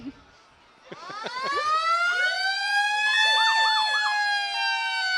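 A fire engine with a ladder on its side sounds its siren during a parade, a loud rising wail that climbs and then holds a steady, sweeping tone close by, with no talk over it.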